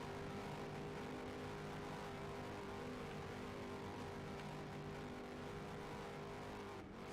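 A race car at a Superstar Heat event does burnouts, a steady loud engine roar with tire noise heard from a distance, continuous with no talking.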